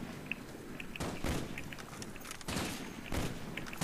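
Bursts of gunfire from the video game Call of Duty: Black Ops, several sharp volleys of shots with steps between them, fairly quiet overall.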